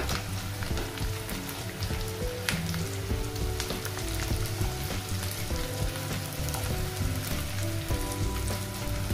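Three green chilies fry in hot oil with almonds and cashews for Nawabi paneer, a steady close crackling sizzle with dense popping that runs continuously, with no talking.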